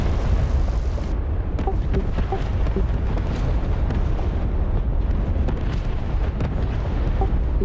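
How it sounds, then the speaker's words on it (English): Scud missile explosions striking an airfield in a flight-sim video game, a series of distant rumbling booms and bursts recurring over a dense, noisy background. "Those explosions are Scud missiles coming in."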